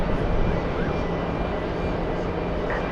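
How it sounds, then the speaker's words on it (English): Boeing 777 airliner rumbles with a steady, moderately loud jet roar at an airport, sustained throughout with a faint background whine, and no talking. "And that's the 777."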